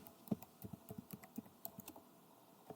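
Keys clatter on a computer keyboard in an irregular run of quick, light keystrokes, close by and fairly faint, with no voices.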